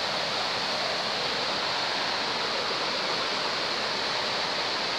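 Water rushes over rocks at Buchanty Spout, a Scottish waterfall, as a loud, steady broadband roar with no breaks and no voices.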